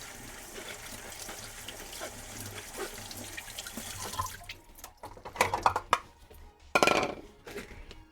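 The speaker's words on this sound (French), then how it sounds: "je rince mes haricots mongo" Mung beans rinsed under a running tap: a steady rush of water for about four seconds, then sharper splashes, clatter and sloshing as the beans are stirred and drained in a sink, close and fairly loud.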